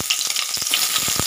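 Onions hitting hot oil in a pressure cooker pan, a steady close sizzle broken by a few soft stirring knocks, with no talking.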